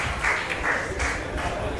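Short burst of applause from spectators at a curling World Cup final in Trentino, a light patter of clapping that swells and fades in waves over a steady background.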